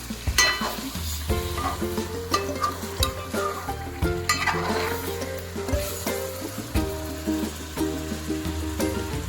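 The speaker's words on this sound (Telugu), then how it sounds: "సో ఇప్పుడు దీన్ని మనం బాగా కలుపుకోవాలి" Fish curry being stirred in a pan on the stove, with steady scraping and clinking strokes of a spoon against the metal over a continuous frying sizzle, close and fairly loud, with no voices.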